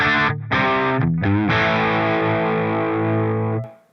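Distorted electric guitar played through an AmpliTube 5 Friedman Pink Taco (MiniPlex 20) amp model, mic'd with a ribbon mic: a few short choppy chords, then one sustained chord ringing out before cutting off.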